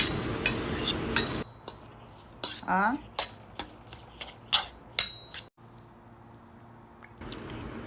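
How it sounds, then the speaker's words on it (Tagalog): Egg sandwich spread being stirred with minced onion, a utensil scraping and clinking against the bowl in a series of sharp close taps, with a few quiet gaps and a faint voice in the background. "Now, ilagay na natin yung onion mince. Ihalo ulit."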